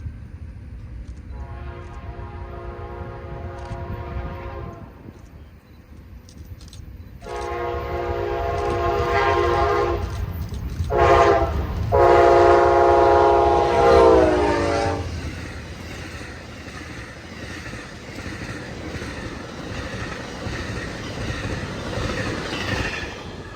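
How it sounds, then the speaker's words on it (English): An Amtrak train led by two Phase 5 Genesis locomotives pulls away, sounding several long horn blasts over rumbling engines and rolling wheels, followed by a fading clatter of passing cars. "There's two Phase 5 Genesis locomotives leaving"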